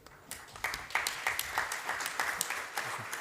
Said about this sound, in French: Je crois qu'on accueille M. Villani, on peut l'applaudir.